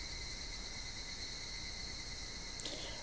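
Cicadas droning in the video game Higurashi When They Cry, a steady high buzzing chorus that holds evenly throughout, moderately loud with a brief extra chirp near the end, no voices.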